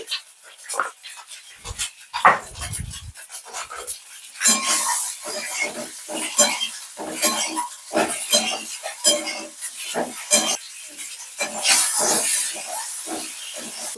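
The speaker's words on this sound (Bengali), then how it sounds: "অল্প হলুদ দিয়ে দিচ্ছি ডিমটা ভাজছি" Boiled eggs frying with turmeric in oil left over from cauliflower, a continuous sizzle running under frequent utensil clinks and stirring, with a brief dog-like panting sound early on.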